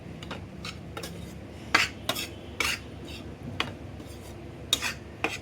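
Besan being roasted in a pan over a very low flame, with soft, irregular scraping and clinking taps of a spoon against the pan over a quiet background.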